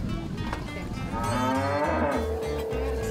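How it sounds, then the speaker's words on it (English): Cattle lowing loudly and close, a few long drawn-out moos with deep harmonic tones overlapping, standing alone without any talk over them. "A cow like this one."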